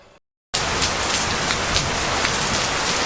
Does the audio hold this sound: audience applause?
no